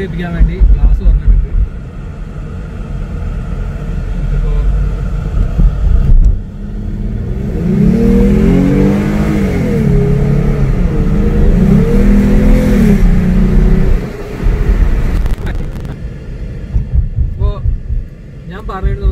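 A rental car's engine in Dubai revs hard for several seconds, a loud, close, rising and falling roar with a steady rumble, bracketed by speech before and after.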